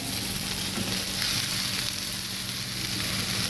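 Boiled, mashed potatoes frying with chopped onions in a pan for masala dosa filling, giving a steady, dense close sizzle with no pauses or talk.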